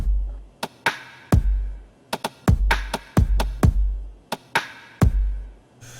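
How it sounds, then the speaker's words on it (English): Electronic drum pattern of deep kicks and crisp snare hits in a busier, syncopated rhythm with quick doubled strikes, loud and dry with no voices. "the original drum pattern sounds like this."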